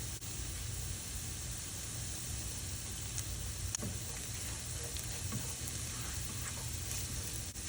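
Minced garlic and red pepper flakes sauté in a pan with a steady, even sizzle throughout, faint stirring clicks now and then, nothing spoken.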